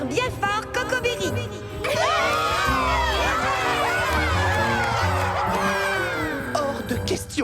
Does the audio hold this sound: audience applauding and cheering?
yes